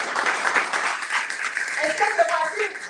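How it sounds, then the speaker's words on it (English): An audience at an education seminar claps in a steady, even patter of applause throughout, moderately loud and indoors, with a voice briefly speaking underneath. "Can we clap again for our Mr. Guru?"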